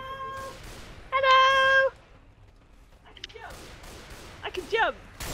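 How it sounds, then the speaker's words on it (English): A cat meows twice in a game-session recording, a sustained tonal meow followed later by a shorter rising-falling one, with soft clicks and noises between them and no clear talking over the calls. "What's that cat doing?"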